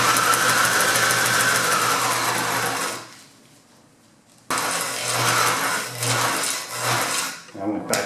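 A sewing machine stitches cord into upholstery welting for a custom Suburban interior, a steady, close, whirring run that stops for about a second and a half, then resumes with slight changes in speed.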